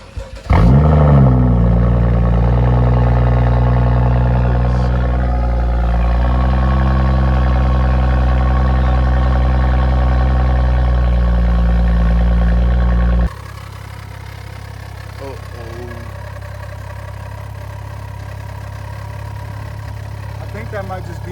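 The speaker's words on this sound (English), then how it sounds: "about to do my first cold start on the BMW" BMW F32 engine on a cold start: it cranks and fires, revs up loudly, then settles into a steady high idle before dropping to a lower, quieter idle, close to the car.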